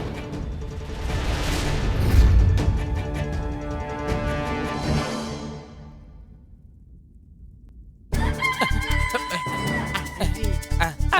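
A chicken clucks amid busy background music and low thumping booms, with a brief drop-out midway before the clucking and music resume.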